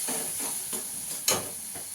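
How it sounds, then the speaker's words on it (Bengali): Onion-spice masala with a spoonful of ground coriander being sautéed in a pan for egg kofta curry, a continuous close sizzle with repeated scraping stir strokes. "ধনের গুঁড়ো দিয়ে দেবো 1 চামচ, মশলাটাকে ভালো করে কষিয়ে নেব"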